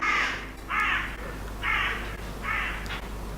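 A bird gives four loud, harsh, crow-like caws in a steady rhythm, each call clear and close over a low background hum.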